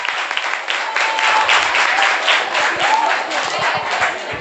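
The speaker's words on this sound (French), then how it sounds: "On l'applaudit très fort" Applause from a school class audience at a quiz contest for a correct answer, steady dense clapping of many hands heard close and fairly loud throughout.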